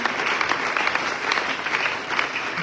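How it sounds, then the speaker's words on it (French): A church congregation bursts into sustained, dense applause acclaiming the Lord during a sermon, many hands clapping together loudly and steadily throughout. "Est-ce qu'on peut acclamer le Seigneur?"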